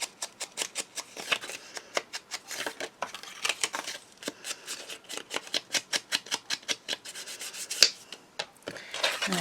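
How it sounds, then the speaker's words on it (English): An ink pad rubs along the edges of a sheet of paper in quick, repeated scratchy strokes, close up and rhythmic, with a short pause partway and one sharper scrape near the end. "I'm going to ink the edges of my paper."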